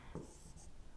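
A pen scratches briefly across paper while an accounting exam answer is written out, a short faint stroke in a quiet room.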